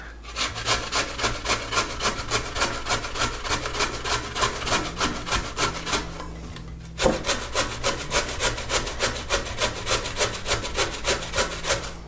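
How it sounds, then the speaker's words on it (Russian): Raw potatoes rubbed quickly on a fine grater over a large bowl for draniki, a steady rhythmic rasping of even back-and-forth strokes, close and loud, with a brief pause midway. "берем терку, обязательно мелкую, и натираем эту картошку"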